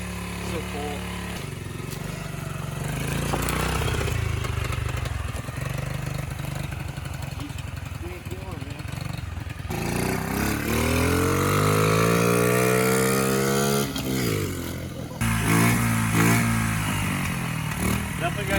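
A vintage pit bike engine runs close by, chugging at idle before its pitch climbs and falls through a couple of revs, then settles back to a steady mid-pitched drone.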